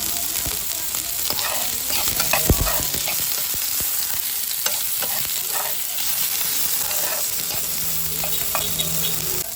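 Smoked fish (tinapa) and tomato fry in a very hot pan with a loud, crackling sizzle, punctuated by stirring scrapes and a sharp knock, continuous and close with no voices.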